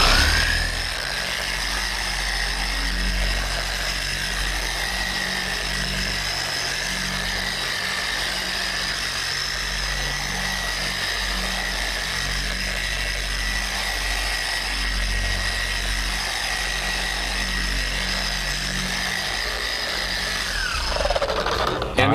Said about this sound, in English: Don't lift the polisher off the paint until that pad slows down, or you'll throw splatter all over the place.